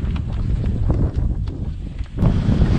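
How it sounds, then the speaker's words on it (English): Steady wind buffeting the microphone atop Mount Hope in Jonathan Dickinson State Park, a low rumbling roar with gusts that swell and ease, loud throughout with no voices. "So it's windy up here."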